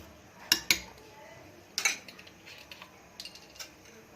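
A spoon clinks and scrapes against a bowl while mango-flavoured cake batter is mixed, giving a few faint, sparse metallic taps in a quiet room.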